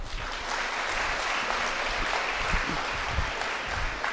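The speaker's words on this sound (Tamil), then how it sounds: "இருக்கிற எல்லா பெண்களும் சேர்ந்து இங்க உள்ள ஆண்களுக்கு ஒரு பெரிய கைத்தட்டல் கொடுங்க" A crowd of women at a public speaking event gives the men in the hall a big round of applause, a thick, continuous wash of clapping that holds at an even, moderate level from start to finish.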